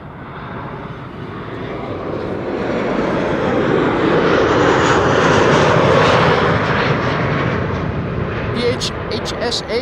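A Transavia airliner arriving at Amsterdam Schiphol on a sunny day roars overhead, the jet noise swelling to a loud peak midway and then slowly easing off.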